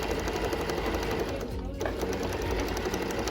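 A sewing machine runs stitches along maxi skirt fabric, its steady close whirring hum broken by a brief slowdown midway before carrying on.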